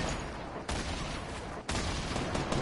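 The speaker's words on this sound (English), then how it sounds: "He's shooting at us." Dense gunfire from a Fortnite-style shooter video game, a continuous loud fusillade of overlapping shots with two brief dips in the barrage.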